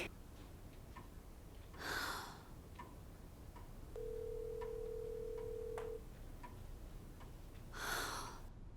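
A phone line tone sounds in a long steady beep between two brief bursts, with a faint ticking rhythm running through the quiet background.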